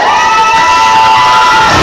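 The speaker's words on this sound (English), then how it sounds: "And this crowd coming on for Nick Mira." Wrestling crowd at a Thanksgiving show roaring and cheering for a wrestler after an elbow drop, a dense, sustained wall of shouts and whoops filling the arena.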